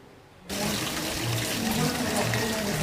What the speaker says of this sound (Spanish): Litros y litros de agua brotan día y noche de esta alcantarilla ubicada en la calle Catacocha